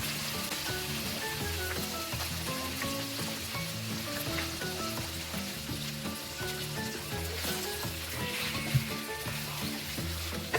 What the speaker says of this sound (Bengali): এবার আমি মাংস ছেড়ে দেব এর মধ্যে এক এক করে